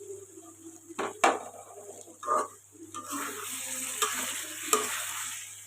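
Poa fish frying with new potatoes as tomatoes go into the pan, a steady close sizzle broken by a few sharp clanks of a spoon against the pan.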